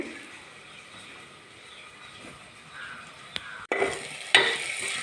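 Oil sizzles softly under a stirred tempering for a village-style chilli chutney made with salted chillies, with scraping and clinks breaking in sharply near the end; no voices.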